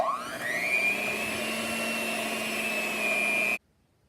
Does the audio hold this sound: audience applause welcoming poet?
no